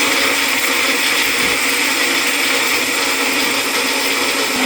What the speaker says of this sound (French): On va venir blender le tout.